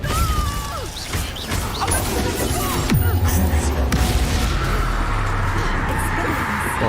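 A Depulso spell cast in the Hogwarts Legacy video game, heard as a whooshing burst and impact amid busy, continuous combat effects with thuds and crashes throughout.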